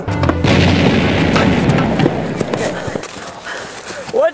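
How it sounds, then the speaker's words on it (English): A loud, close blast bursts inside a house during a monkey heist, a heavy boom with rumbling debris that fades over several seconds as voices react. "I told you on numerous occasions, we do not need explosions."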